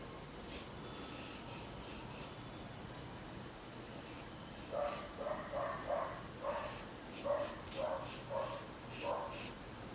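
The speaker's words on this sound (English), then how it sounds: "There is a dog barking." A dog barks in a series of short, evenly spaced barks at a moderate distance, starting about halfway through and continuing over steady background noise.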